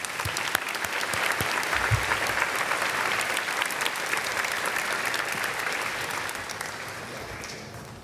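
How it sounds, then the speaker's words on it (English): Sustained audience applause at a 2024 nurse pinning ceremony, a dense steady wash of many hands clapping from a sizable crowd, fairly even throughout and tapering slightly toward the end. "let's clap again for all the recipients."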